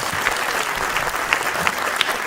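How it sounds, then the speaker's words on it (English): Audience at a Midnight Madness film screening reunion clapping in a brief, dense burst of applause, steady and close throughout. "I would really like everybody to give Sammy a round of applause."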